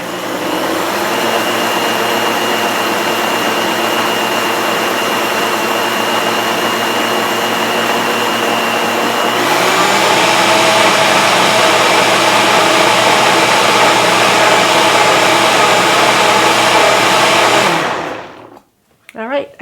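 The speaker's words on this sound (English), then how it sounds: "You want it to go so that it grinds up all that quinoa and makes a smooth consistency." Blender runs loud and steady for about eighteen seconds, grinding soaked quinoa with flax and chickpea into a smooth, watery batter; its pitch shifts partway through, then the motor stops abruptly.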